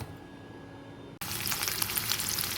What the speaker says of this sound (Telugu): వేడెక్కినటువంటి నూనెలో జీలకర్ర, ఆవాలు, ఉల్లిగడ్డ, పచ్చిమిర్చి, కరియామాకు, కాజులు వేసి ఒక 2-3 నిమిషాలు వచ్చే వరకు వాటిని వేపుకోవాలి